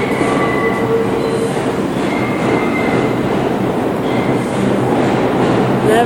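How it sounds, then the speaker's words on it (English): A subway train on the 2 and 3 lines pulls into Nevins St station in New York, a loud continuous rumble with wheel squeals and rhythmic clatter over the rails, close by and steady throughout. "It's a train."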